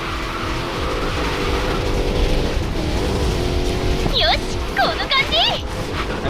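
A LaFerrari race car in the Racing Master video game brakes hard, tires squealing and skidding in several bursts over a steady engine roar, with a voice talking over it.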